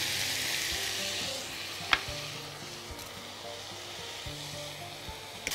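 Chicken sizzles and fries steadily in a pan after a sprinkle of pepper, thyme and paprika, with a continuous crackling hiss and a few soft clinks of stirring; no voices.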